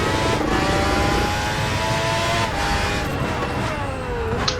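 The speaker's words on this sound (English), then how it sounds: "a bit late in there, you can hear the tyres squealing." Racing car engines at Spa in a racing video game drone loudly and continuously, with thin high tyre squeals sliding across the steady roar.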